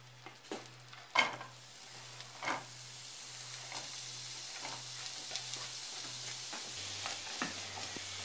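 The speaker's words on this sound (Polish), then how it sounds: "Masło już się rozpuściło, więc teraz wrzucę na nie cebulę." Quiet, steady sizzle of onions frying in butter, with occasional louder crackles and a faint low hum underneath; no talking.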